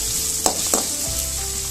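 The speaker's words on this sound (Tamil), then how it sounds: "இந்த வெங்காயத்தை கொஞ்சம் வதக்கிக்குவோம்." Small onions sautéing in a pan, a steady close sizzle with a couple of brief stirring scrapes.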